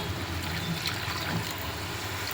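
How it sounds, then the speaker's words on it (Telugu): Water trickles and pours steadily from a glass into a pot of mushroom curry for a couple of seconds, a soft continuous liquid sound with no talking. "ఫైనలీ మనం వాటర్ యాడ్ చేసేద్దాం"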